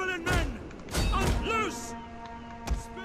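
Siege weapons in Total War Rome 2 fire into a clustered enemy unit: several heavy thuds and impacts spaced apart, moderately loud, with talk and a battle shout in between.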